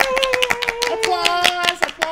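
Quick, sharp hand claps from a few people on a political panel show, close and irregular, with a voice sounding over them.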